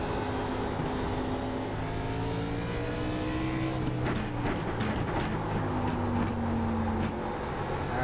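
A race car engine in iRacing at South Boston holds near redline, a loud sustained whine with shifting tones as it accelerates, mixed with faint game ambience and no talking.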